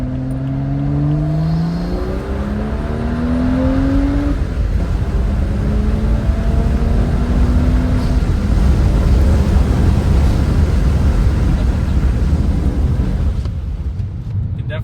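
A BMW F30 with the N55 engine and a Burger Motorsports performance intake accelerates hard in second gear, heard from inside as a rising engine drone that climbs in pitch, then gives way to a broad, loud roar with road and wind noise.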